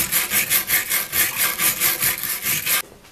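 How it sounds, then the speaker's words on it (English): A worn wire brush with half its wires gone scrubs dirt off wood being prepared for a spear, a close, loud back-and-forth rasping in a quick regular rhythm of about a dozen strokes, stopping suddenly. "all you need is a wire brush where half the wires are gone and get rid of the dirt"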